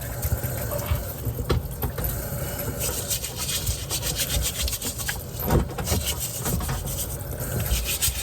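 A lobster tail is cut open by hand, giving close rasping, crunching scrapes of shell in uneven strokes with a few sharp cracks, over steady outdoor background noise.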